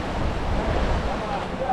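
Ocean waves break and wash along the beach at Cheoc Van, Macau, as a steady, dense surf roar mixed with gusty wind buffeting the microphone, with no clear pauses between swells.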